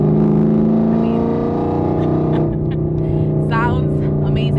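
Chevrolet Camaro ZL1 1LE with catless headers and a loud exhaust, out on canyon roads, gives a steady, deep, rumbling drone that holds close and loud throughout, with a brief higher rasp near the end.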